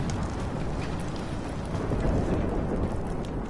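Steady storm ambience from the video game Life is Strange: a continuous wash of heavy rain and low rumbling thunder, dense and unbroken throughout, with no voices.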